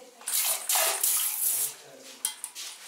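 Water gushes from a newly installed mixer tap as it is opened in a bathroom, a broad hissing flow that swells loud in bursts, with a few brief splashes and quieter trickles near the end, no talking.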